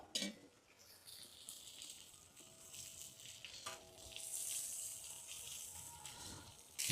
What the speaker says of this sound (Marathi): अजून 5 मिनिटं आपण तर असेच फिश भाजून घेऊ